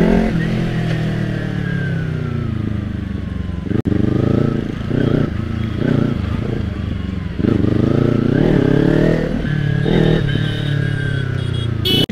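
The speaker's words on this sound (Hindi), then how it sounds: "निकालते हैं ना मस्त करके निंजा को, थोड़ा स्पीड अप करते हैं।" Kawasaki Ninja motorcycle speeding up on a road, its engine note climbing and dropping through several loud, close revs that carry on without a break.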